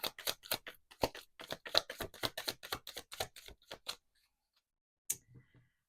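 Rapid crisp clicks and riffles of tarot cards being shuffled, close and dry, stopping abruptly and leaving silence with a few faint taps.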